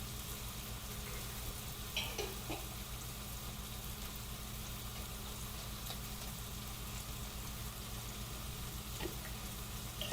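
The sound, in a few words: green chili paste added to sizzling pan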